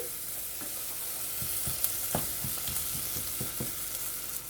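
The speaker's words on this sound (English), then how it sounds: "Stir for about 2 minutes." A spoon works Montego Bay hot curry through a sizzling pan for a chickpea curry, giving repeated soft scrapes and taps over a low, steady frying hiss.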